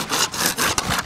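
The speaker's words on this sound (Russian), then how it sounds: "Довольно трудное занятие пилить рога." An ordinary fine-toothed wood hand saw cuts through animal horn in quick, rasping back-and-forth strokes, close and loud, with about four strokes in a rapid rhythm.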